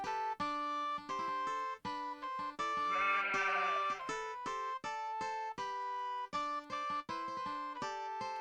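Sheep bleat in the Lords of the Realm medieval strategy game: repeated loud, close bleats sit over tonal game audio, with one wavering bleat standing out midway and no voices.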